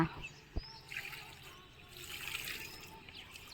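Cauliflower seedlings on a terrace garden are watered by pouring, producing a soft, quiet trickle of water that runs faintly and continuously through the moment.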